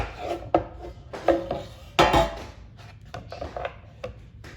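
A warm homemade bread loaf flipped out of its pan for cutting, giving a series of close knocks, thuds and scraping bumps against a wooden surface at irregular intervals.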